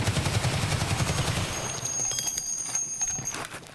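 Rapid automatic gunfire in Escape from Tarkov, fired while shooting out a light: a tight, fast burst of shots in the first second and a half, then ringing tones and quieter rattling as the burst dies away.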